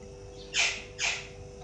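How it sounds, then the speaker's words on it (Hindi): A pet parrot lets out two sharp, loud squawks about half a second apart, each a short harsh burst over a quiet indoor background. "ये हमारे तोते को मस्ती चढ़ी हुई, तो हमारा जो तोता है ना, ये ऐसी आवाज़ें निकालता रहता है।"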